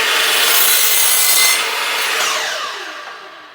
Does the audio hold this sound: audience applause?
no